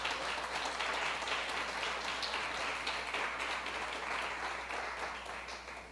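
Congregation applauding during a church service, a dense continuous wash of clapping that stays loud and steady throughout before easing slightly at the end.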